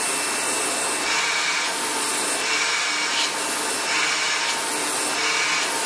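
A Sebo BS36 commercial upright vacuum cleaner with a spinning brush roll and weak suction runs steadily and loudly up close, its broadband whir rising and falling slightly as it moves, with no one talking.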